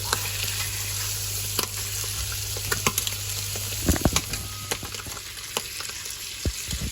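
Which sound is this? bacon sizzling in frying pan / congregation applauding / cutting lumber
bacon sizzling in frying pan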